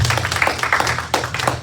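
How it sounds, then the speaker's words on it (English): A church congregation claps their hands, making irregular, uneven clapping that sounds near and moderately loud, with a low musical hum beneath. "Come on, clap your hands"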